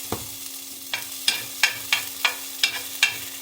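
Spanish rice and black beans heating in a pan, with a low steady sizzle and a series of regular scraping stirs from a utensil, close up and with no talking.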